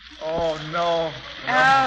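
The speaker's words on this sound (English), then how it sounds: "That's the sound of a steak sizzling." Thick porterhouse steak dropped into a hot frying pan, sizzling and crackling steadily through the clip while someone talks excitedly over it.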